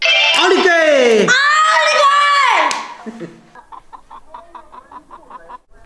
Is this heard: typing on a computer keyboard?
no